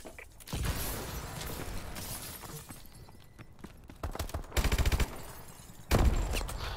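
Gunfire in Call of Duty: Advanced Warfare, hardcore Kill Confirmed mode, comes in short rapid bursts and sharp single cracks, the loudest burst near the end, over quieter game noise.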